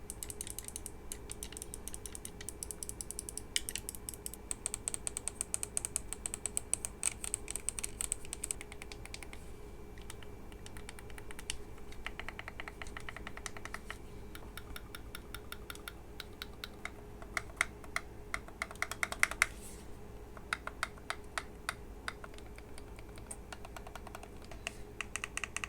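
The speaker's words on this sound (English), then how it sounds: "the ABXY buttons uses clicky micro switches" Buttons on a Flydigi Apex 4 wireless controller pressed repeatedly, mixing tactile mechanical switches with crisp micro-switch ABXY buttons: a long, close series of sharp clicks, sometimes rapid, sometimes spaced, over a faint steady background hum.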